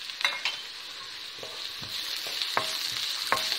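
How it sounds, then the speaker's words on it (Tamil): Onions and turmeric powder sizzle and fry in a pan, with a steady soft sizzle under several sharp scraping stirs of a spoon against the pan, close and fairly quiet; no talk. "பாருங்கள், வெங்காயம் பாதி அளவுக்கு வதங்கிடுச்சு."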